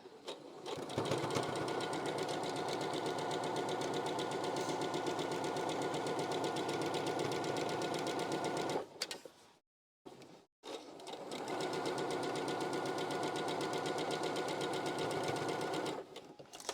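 A sewing machine runs fast and loud in long continuous bursts while tacking down the insides of a fabric mask, with a brief stop and restart partway through.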